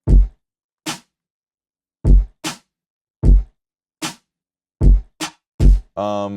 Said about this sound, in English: Then I got this kick and snare pattern.